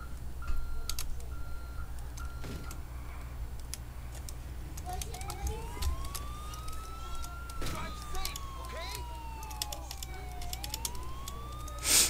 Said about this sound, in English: I also have to change the siren.